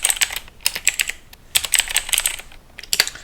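Rapid clusters of keystrokes on a computer keyboard as a terminal command is typed, crisp and close, arriving in several short bursts separated by brief pauses.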